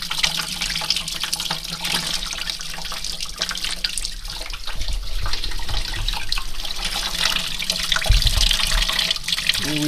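Coolant pours steadily from the drain pipe of a Land Cruiser BJ42, a continuous close splashing rush of liquid with a slight surge toward the end.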